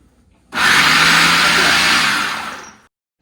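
A food processor whirs loudly for about two seconds as it mixes butter pie crust pastry dough for a pumpkin pie, starting abruptly, holding a steady dense motor roar, then winding down to silence.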